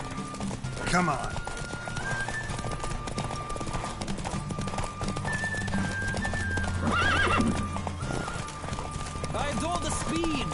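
A galloping horse races in The Witcher video game, hooves pounding continuously and close, with whinnies breaking through and game characters speaking over the run.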